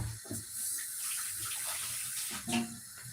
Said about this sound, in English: So I'm adding more water.